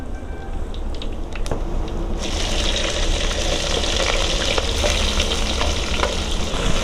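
Onions go into hot oil already crackling with mustard seeds and cumin for a halo bhurji. The steady sizzle jumps to a louder, denser hiss with sharp pops as they hit the pan and keep frying up close.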